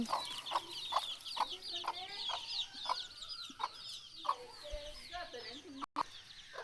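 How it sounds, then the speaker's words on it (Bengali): Several hens cluck close by in a steady, busy rhythm as they feed on grass, with higher chirping calls layered over the clucks. "এখানে আমার আম্মুর মুরগিগুলা ঘাস খাইতেছে সুন্দর মতো"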